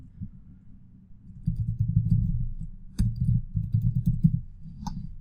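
An S3 bucket name is entered on a computer keyboard as a run of muffled key taps over a low hum, with a couple of sharper clicks standing out.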